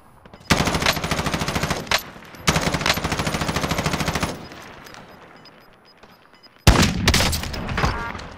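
Automatic gunfire in Warzone Zombies on the Verdansk map: two long sustained bursts, a pause with faint background noise, then a third loud burst near the end, close and dominant with no talk over it.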